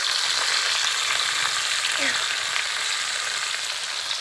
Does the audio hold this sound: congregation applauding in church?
no